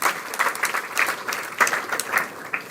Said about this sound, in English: give a huge round of applause for yourselves